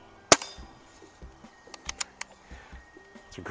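A Crosman 1701P silhouette air pistol fires one sharp, near shot at a plinking target at 10 meters, followed by several fainter clicks and knocks in a quiet room.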